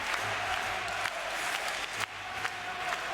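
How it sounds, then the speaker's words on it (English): An ice hockey crowd at a Skellefteå versus JYP game roars in a continuous wash of cheering and clapping, with brief louder swells rising out of the arena noise. "Crowd getting into it now."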